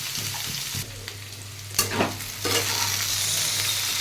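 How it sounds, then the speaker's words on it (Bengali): Vegetables frying in a pan with steady sizzling and a few louder scrapes and clatters of stirring, close up with no talk. "সবজিগুলো একটু ভাজা ভাজা হয়ে গেছে"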